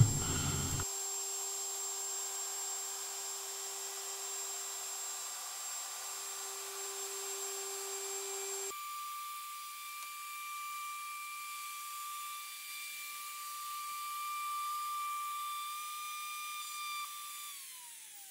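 A router cutting T-track grooves into a tabletop gives a steady, faint high whine with a constant hiss under it, and the pitch shifts partway through as the cut continues.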